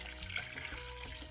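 About two glasses of water are poured into a cooking pot of kachnar gosht, a steady splashing, gurgling stream heard close and continuous.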